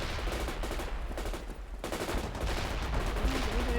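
Continuous machine gun fire in the World in Conflict video game, dense rattling bursts filling the scene with battle noise and faint voices underneath.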